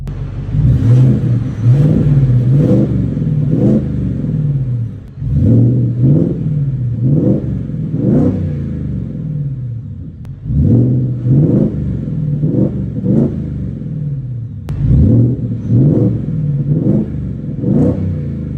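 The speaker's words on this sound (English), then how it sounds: "Still, undisputedly, a supercharged V8, especially when you get on it, you'll hear that." A Ford Raptor R's supercharged V8 revs repeatedly in loud, close bursts, each rise in engine pitch followed by a drop back, in a steady rhythm of blips over a constant deep rumble.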